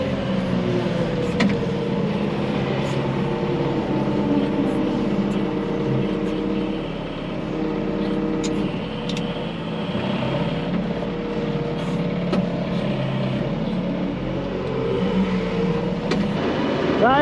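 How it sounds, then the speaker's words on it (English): A vehicle moving a farm trailer aside during barley drilling produces a steady, close engine drone with a rumbling undertone that holds nearly unchanged for the whole stretch. "I've got to get this trailer out the way."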